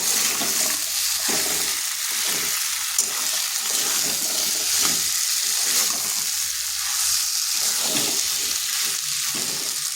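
Pumpkin and potato fry with spices in a pan, a steady close sizzle with intermittent stirring scrapes, loud and continuous throughout.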